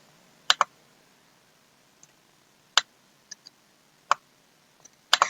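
A computer mouse clicks on a player profile in the online game MovieStarPlanet: sharp, quiet single and double clicks spaced irregularly, with no talking.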